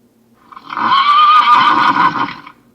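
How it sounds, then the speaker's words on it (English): A horse neighs as a theatre sound effect: one loud, close whinny lasting about two seconds, rising and trembling before fading, heard alone. "Giddy up, Bessie. What's the matter with you today?"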